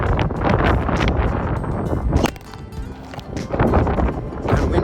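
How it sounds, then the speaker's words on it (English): Gusty wind in Alaska buffets the microphone with loud, rumbling broadband noise, easing briefly in the middle before picking back up. "Kind of windy out here."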